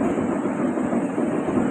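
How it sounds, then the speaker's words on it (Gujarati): A passenger train pulls into a station platform, its steady broadband rumble and rolling wheel noise filling the whole moment without a break, close by and fairly loud, with no one speaking. "આમ ભાઈ ટ્રેન આવી ગઈ છે"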